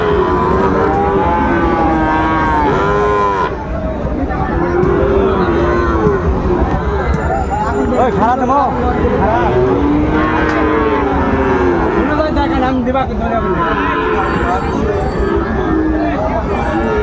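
Sahiwal cattle low repeatedly and loudly at a busy Dhaka cattle market, several drawn-out moos rising over a constant hubbub of crowd chatter and background noise.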